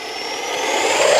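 An FMS F/A-18 Hornet radio-controlled jet with a 64 mm electric ducted fan starts its takeoff run, a loud, steady whine that builds slightly in pitch and volume, with no voices.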